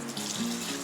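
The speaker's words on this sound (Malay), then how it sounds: "Air laju, okey, tak ada masalah." Fast-running water pours from a tap into a sink in a campsite toilet block, a steady close rushing hiss that lasts the whole short moment.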